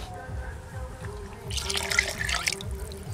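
Water from a bowl is poured into a pot of soaked rice for tomato rice, a brief splashing pour rising midway over faint kitchen background noise.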